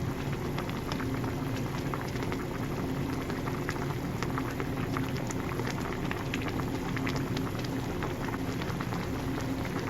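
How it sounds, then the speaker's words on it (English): Chicken in a Sprite and oyster sauce simmers in a pan, a steady bubbling hiss with fine popping as the sauce reduces, constant and close, with no voices. "we're going to cook this until the sauce reduces by half"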